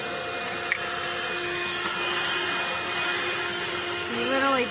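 A HOTOR handheld wet/dry car vacuum cleaner runs with a steady, loud motor whine while cleaning seat upholstery, and its pitch shifts briefly near the end as it moves over the fabric.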